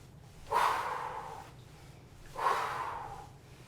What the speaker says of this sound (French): on expire par la bouche